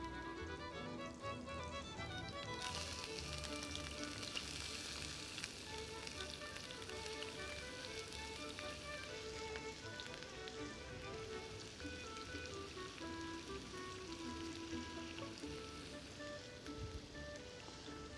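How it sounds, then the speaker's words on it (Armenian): Onion and chicken frying together in oil and butter: a steady, dense sizzle and crackle, close and continuous throughout with no pauses. "Սոխն ու հավը միասին ենք տապակելու"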